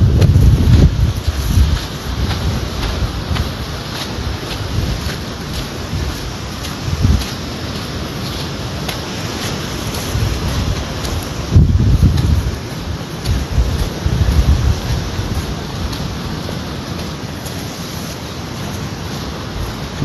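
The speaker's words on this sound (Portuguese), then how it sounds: "É o vento que vem da terra pra dentro" Offshore wind (vento terral) blowing from the land out over the water at the coast roars in continuous gusts against the microphone, rising and falling in loudness with a heavy rumbling low end.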